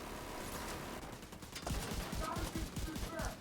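Rapid gunfire in The Division 2 video game, a quick string of sharp shots crackling in a dense burst over the second half, with a voice alongside.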